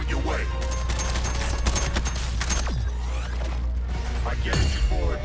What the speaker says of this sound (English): Suppressing fire coming your way.